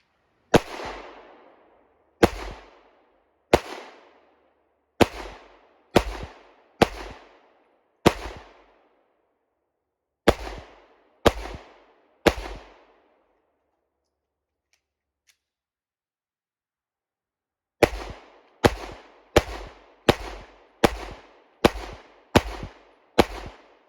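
Sharp gunshots from a Stoeger STR-9 pistol fired at a target eight yards away on a range, loud and close, in two strings of evenly spaced shots separated by a brief pause.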